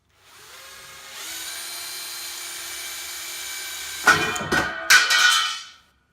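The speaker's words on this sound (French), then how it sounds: "vous avez un rail qui est à côté, enfin qui est collé, comme si en situation réelle. Donc je vais vous le percer" A power drill fitted with a Bosch Pro multi-construction bit bores through a rail, giving a steady, close whine for several seconds that rises into louder grinding bursts near the end before stopping.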